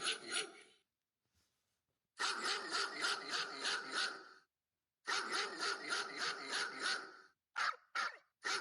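A recording of dogs barking played from a minivan camper: rapid bursts, several loud volleys separated by short silences, with a few sharp single barks near the end.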